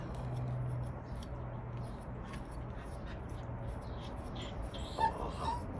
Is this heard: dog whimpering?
yes